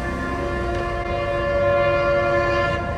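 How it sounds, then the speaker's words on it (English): A passing train sounds its horn in a steady, loud, sustained blast over a low rumble of rolling wheels, heard outdoors during a long run with no talking. "Of course, the train comes right now."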